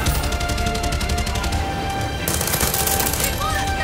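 Video game gunfire in Far Cry 6, a loud, dense run of rapid automatic shots with a short gap and then another sustained burst, with a voice faintly under the firing.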